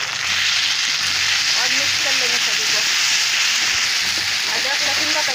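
Ginger-garlic paste hits browned onions in a hot pan and sizzles loudly in a dense, steady hiss, with a voice talking underneath the frying.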